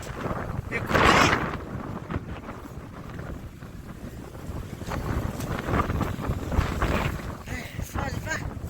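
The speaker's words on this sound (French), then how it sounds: "Ça le vent." Violent wind of 70 to 90 km/h roars and gusts against the microphone outdoors at night, with a loud buffeting burst early and uneven rushing throughout.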